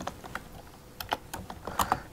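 Quick, soft keystrokes patter on a computer keyboard while code is written, an irregular run of close, light clicks with a few slightly louder taps near the end.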